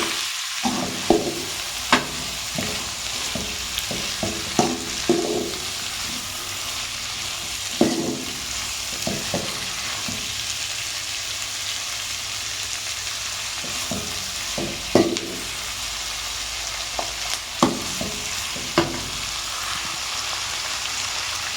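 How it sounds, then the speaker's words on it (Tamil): Onions frying in oil in a pan for drumstick-leaf sambar, a continuous loud sizzle broken by scattered scraping and clacking stirs of a spoon against the pan, no talk. "வெங்காயத்தையும் சேர்த்து நல்லா கொஞ்சம் பொன் வரல வறுத்துக்கலாம்"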